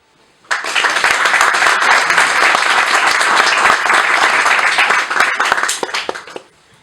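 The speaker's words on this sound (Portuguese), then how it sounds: "E palmas a eles." Audience applause at a QA engineering meetup welcoming the next presenters, starting abruptly and holding as steady dense clapping for about six seconds before cutting off, with no talk over it.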